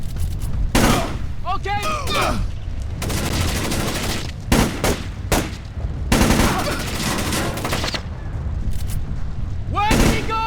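Splinter Cell: Chaos Theory firefight with loud, irregular gunshot bursts and booming impacts crackling through a noisy scene, while voices shout between the volleys.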